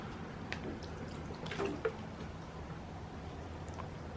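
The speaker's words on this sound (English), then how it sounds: "you can see how the water just kind of sheets off and beads up" Water runs and drips off the hood of a car wrapped in ceramic-coated vinyl. The trickle is quiet, with a few sharper droplets splashing around the middle.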